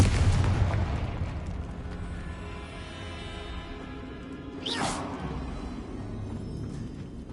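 Confringo blasting spell explosion in the Hogwarts Legacy video game, a booming burst at the start followed by a decaying rumble and a sharp whooshing crack near the middle, moderately loud with game ambience.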